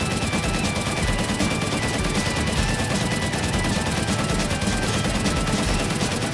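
A Roblox Tower Defense Simulator Minigunner skin fires pea shooters from a wagon at max attack, producing an unbroken, rapid machine-gun rattle at steady loudness for the whole stretch, with no voices.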